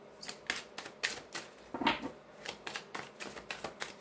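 Tarot cards being shuffled by hand, a quick run of crisp riffling snaps and flutters close up, fairly steady in rhythm with one louder burst midway and no talking.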